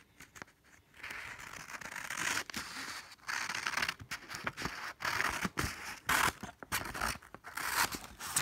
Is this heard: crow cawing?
no